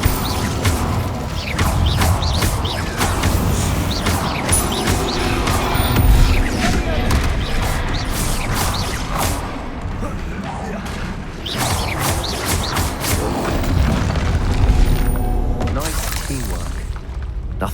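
Spell blasts from the Confringo fire spell in the Hogwarts Legacy video game crash and boom repeatedly throughout a dense, loud battle mix, with shouted spell incantations over the top.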